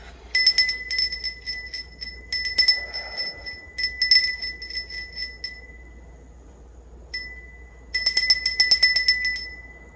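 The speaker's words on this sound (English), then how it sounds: "I'm going to ring my bell to cleanse the energy" A handheld bell rung to cleanse energy, bright metallic strikes clustered in bursts with long shimmering decay, pausing for a few seconds before another flurry of rings near the end; no talking.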